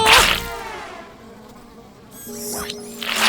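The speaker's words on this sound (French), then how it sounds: "Hé Horace, pourquoi les mouches aiment-elles les ordures" Flies buzzing around garbage, loud, close whirring passes at the start and end with a quieter steady drone between, each sweep rising and falling as an insect flies by.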